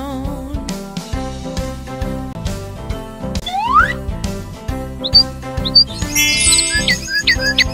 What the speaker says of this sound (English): The birds on the bus go tweet, tweet, tweet